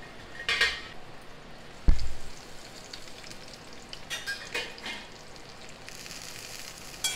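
Potato pieces with grated ginger fry in a pan, a continuous soft sizzle broken by a metal spoon knocking and scraping against the pan, with a sharp clunk near the two-second mark.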